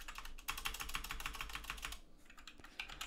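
Quick, continuous clicking of a computer keyboard as code is typed for a Roblox Studio horror game, dense keystrokes with a brief lull, close and soft with no speech.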